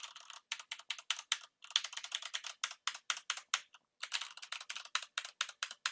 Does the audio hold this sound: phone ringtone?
no